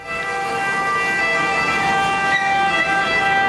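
An ambulance siren wails steadily and loudly over a background of city traffic noise.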